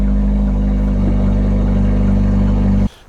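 A Hyundai i30N engine runs loud and steady at idle after a jump start, a deep, dense drone that holds for nearly three seconds before cutting off abruptly.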